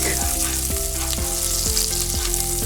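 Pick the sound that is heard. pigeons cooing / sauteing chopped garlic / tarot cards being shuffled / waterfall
sauteing chopped garlic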